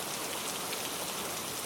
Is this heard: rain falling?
yes